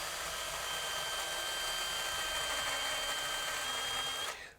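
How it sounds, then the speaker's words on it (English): An old, well-worn electric drill with a wobbling chuck runs steadily with a high whirring motor tone for several seconds, then spins down and cuts off at the end. "This old drill's got a lot of miles on it."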